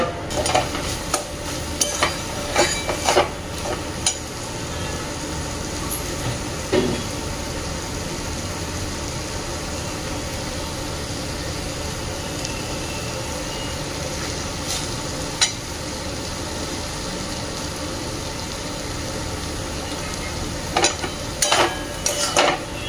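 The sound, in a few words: paneer bhurji with vegetables sizzling and being stirred in a pan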